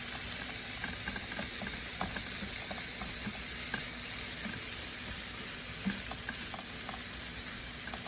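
Vegetables and leftover basmati rice stir-fried in a pan, a steady close hiss of sizzling with scattered light clicks and scrapes of the utensil, continuous and even throughout.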